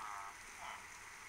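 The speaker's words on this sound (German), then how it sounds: "Kommt der Regen von da" Soft, steady rain hisses as a faint, continuous wash with no voices over it, in the block-building game Minecraft.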